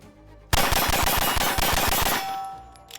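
A pistol fitted with a compensator fires hot Simex ammunition in a rapid string of about a dozen loud, evenly spaced shots over two seconds, followed by fading ringing.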